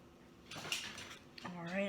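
A metal fork scrapes and clinks briefly in a cooking pan with salmon, two short soft scraping bursts close by, overlapped by a voice speaking.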